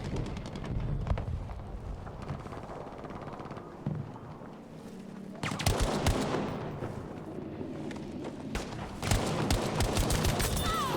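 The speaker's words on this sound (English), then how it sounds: "And of course, somebody shoots me from behind." Battlefield V gameplay fills with dense gunfire: sustained bursts of automatic weapons and sharp crackling shots, rising into heavier volleys partway through, loud and continuous with no voices.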